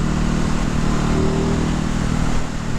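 A 2019 Ducati Hypermotard 950 engine pulls hard under power on the Brands Hatch Indy circuit, a loud, close, continuous roar with a steady low rumble that eases slightly at the end.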